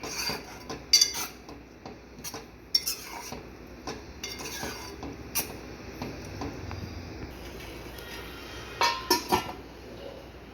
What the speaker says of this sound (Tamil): இப்போ இது எல்லாத்தையுமே நல்லா கலந்து விட்டுக்கிட்டு நம்ம இந்த தக்காளி நல்லா வேகிற வரைக்கும் இதை குக் பண்ணிக்கலாம்